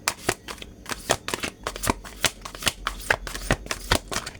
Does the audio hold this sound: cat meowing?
no